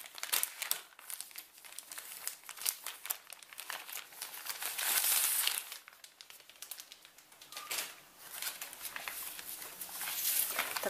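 An old Vervaco embroidery kit package is opened, giving repeated crinkling and rustling of plastic and paper in bursts, close and fairly quiet, with a few brief tearing-like crackles.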